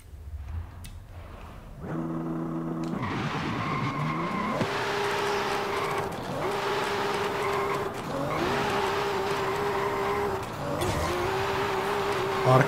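A 1150 hp Toyota Soarer in Forza Horizon 5 on a highway, its engine revving loud and rising through several gear changes, with brief tire squeal and a voice speaking over it.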